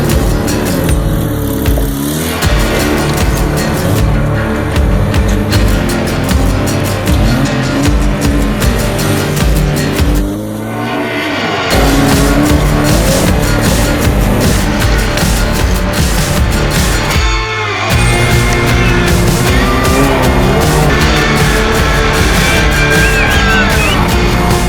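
Willys Jeeps driven hard at an off-road event in Chambon-sur-Jeep, France, engines roaring loud and continuous with revving surges, brief dips near ten and eighteen seconds.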